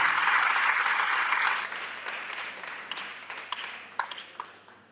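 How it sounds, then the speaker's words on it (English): Applause at a forum of heads of girls' senior high schools, a dense round of clapping that thins out into scattered individual claps as it dies away. "Let's give a round of applause."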